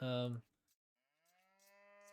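Cows in the Age of Empires II video game moo twice: a loud, close low moo up front, then after a pause a second longer, drawn-out moo rising and holding to the end.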